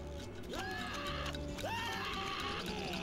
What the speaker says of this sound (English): Those are some quality screams.